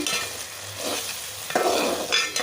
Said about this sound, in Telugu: ఈ అల్లం వెల్లుల్లి పచ్చి వాసన పోయే వరకు అయితే వేయించుకోవాలి